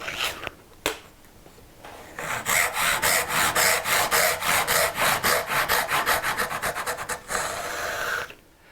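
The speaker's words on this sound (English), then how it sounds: "I prefer using the Japanese saw with the magnetic guide" A Japanese pull saw cutting dovetails in wood against a magnetic guide, a few tentative strokes, then a fast run of about twenty even rasping strokes, close and crisp, ending in a longer drag.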